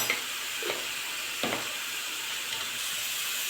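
Onion sautéing in a pan with salt and black pepper for potato shakshuka, giving a steady broadband sizzle with a few sharp stirring scrapes near the start and middle, fairly close, no talking.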